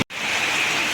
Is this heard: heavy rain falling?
yes